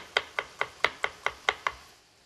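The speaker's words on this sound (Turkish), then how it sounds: "Şimdi bunu biraz daha içinde belirgin olsun diye şöyle bir minik minik doğrayalım." A knife chops shallots finely on a board for a Turkish shallot chicken stew, eight crisp, evenly spaced close cuts in a quick steady rhythm, then stopping.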